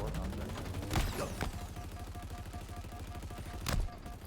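Halo video game gunfire cracks out in a few sharp, loud shots, with a rapid mechanical rattle and a steady hum running beneath them.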